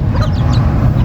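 A rooster crows, a short, loud call close by over a steady low background rumble.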